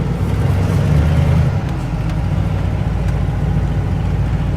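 A 20-foot 1988 TravelCraft Class B motorhome rolls along in drive, its engine a steady close low rumble that rises briefly at the start and then holds even throughout.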